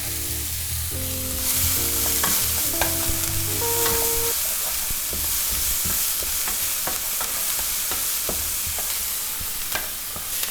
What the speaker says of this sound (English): Into the pan, I'm gonna deglaze these delicious juices by adding some onion.